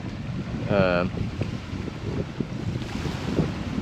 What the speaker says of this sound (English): the wind has just been gnarly. all day.